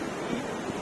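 Ocean waves wash on the seashore at Dhanushkodi in Tamil Nadu, a steady, close, hissing surf with wind noise and no voices.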